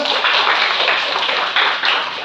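A classroom claps for all the student groups, a brief burst of brisk, fairly close applause with no talking.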